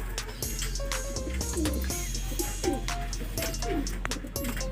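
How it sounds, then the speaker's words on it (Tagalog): Racing pigeons back from a training flight coo in a loft, repeated soft rolling calls close by over a steady low hum, with scattered taps and fluttering sounds. "May dalawang ibon na tayo rito."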